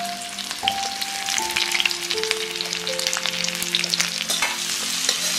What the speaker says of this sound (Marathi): तर हा कांदा आपण या तेलावरती घालूया.